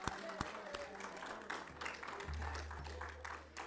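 A church congregation at a Sunday evening service claps their hands, a fairly faint, steady patter of applause with scattered sharper claps and murmured voices underneath.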